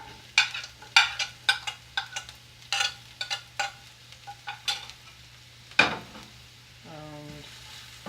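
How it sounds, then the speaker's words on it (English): Onions sizzle in a frying pan as a utensil repeatedly scrapes and taps against it in an uneven rhythm, with a brief tonal beep near the end. "keep frying until the onions turns little brown in color"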